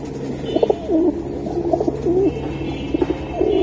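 Pigeons, including Giribaz and Homer breeds, are kept at a Bangladeshi pigeon sale, and several of them coo close by in repeated throaty rolling phrases, with a faint steady hum underneath and no speech.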